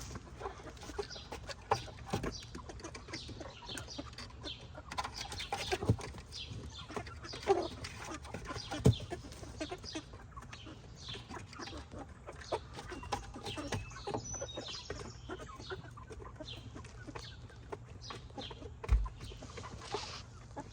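Rhode Island Red hens and a black hen clucking steadily in a backyard, with overlapping, continuous calls at moderate distance and no talking.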